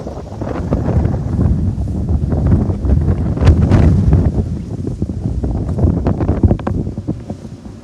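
Strong wind gusting outdoors in a garden, buffeting the microphone with a loud, continuous low roar that swells and eases over several seconds, with no talking.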